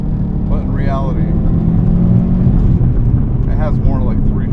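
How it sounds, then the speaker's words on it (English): A 2003 Subaru WRX STi with its EJ207 engine drives along, a steady loud low engine and road rumble filling the cabin throughout, with someone talking over it. "After all these years, I finally get to drive one with an EJ207."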